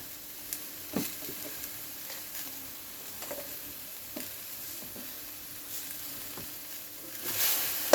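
Winged beans and large chilies sizzle and crackle in a hot pan as they are stir-fried, a steady close hiss broken by occasional louder pops and scrapes.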